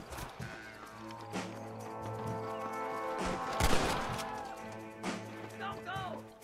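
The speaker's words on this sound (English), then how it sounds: "Who the hell is shooting at me?" Gunfire in the Red Dead Redemption video game, a scattered fusillade of shots with horse hooves clopping, under ongoing game sounds.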